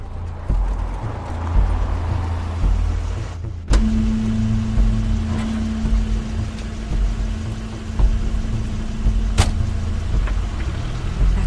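A car in The Wolf Among Us video game: a steady engine rumble, a sudden mechanical thump, then a sustained motor whine, all fairly loud with no talk.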